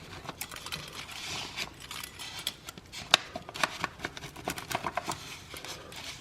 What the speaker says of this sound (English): So I'm gonna cut this let's cut it into 4 pieces here real quick.